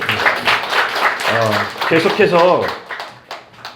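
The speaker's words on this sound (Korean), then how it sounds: "박수 한번 드릴게요." Congregation clapping during a Wednesday church worship service, a dense broadband patter running under loud talking voices that continue throughout.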